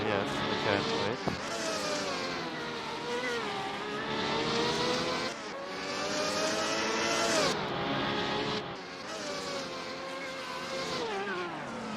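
A race car engine in a racing video game revs and climbs through gears in repeated surges, each whining pitch rise cut by brief drops, loud and continuous with talk underneath.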